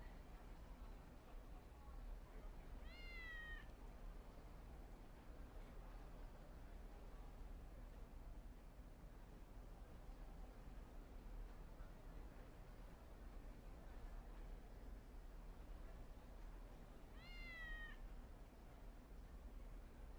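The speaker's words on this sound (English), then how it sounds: "you have to like stand in the exact same spot of the meow" A cat meows twice inside the Kurohyou video game, each call short and rising, the two spaced about fifteen seconds apart over a faint steady background hum.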